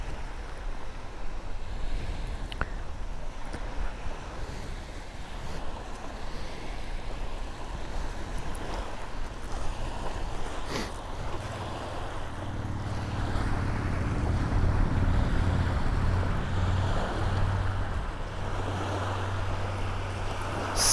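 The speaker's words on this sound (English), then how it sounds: "You can feel the wind coming between this tree area." Steady wind rushing and buffeting through trees beside a lake, with water lapping and a low boat engine drone rising in the second half.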